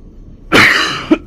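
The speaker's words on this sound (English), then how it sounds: "still getting the cough" Someone fighting a lingering cough during a video game session lets out one loud, close, raspy cough, followed a moment later by a short, smaller throat-clearing catch.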